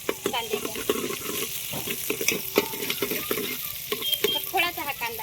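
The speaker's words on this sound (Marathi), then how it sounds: "आता टाकून घेऊ कांदा. कांदा मस्त परतून घेऊ." Onion fries in hot oil while a spoon stirs it for masale bhat, a crackling sizzle broken by repeated scraping and clinking stirs, close and moderately loud.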